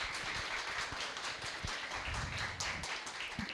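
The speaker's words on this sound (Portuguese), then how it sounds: "Palmas para o Fernando." Scattered clapping from a small studio audience welcoming a guest onto a television program, close, uneven claps with low thumps underneath.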